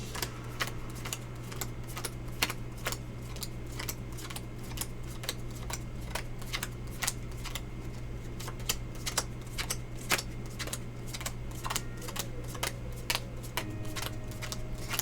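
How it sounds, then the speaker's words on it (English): Playing cards are dealt onto a table for Face Up Pai Gow Poker, a steady run of soft, quick ticks and snaps over a low constant hum, close and faint, with no talk. "Okay, so we're dealing out the cards."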